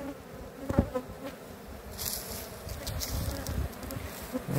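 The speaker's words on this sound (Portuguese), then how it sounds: "Muita abelha." Italian honey bees buzzing steadily around a hive at an apiary, a dense continuous hum close to the microphone with a brief louder pass of a bee near the start.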